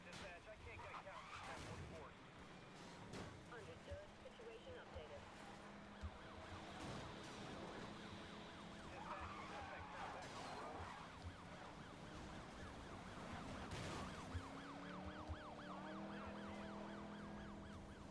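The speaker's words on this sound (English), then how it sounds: "And I listen to those police cars." Police car sirens wail and cycle continuously in the racing video game Need for Speed: Most Wanted, layered over engine and road noise for the full stretch, fairly prominent with some voice activity around them.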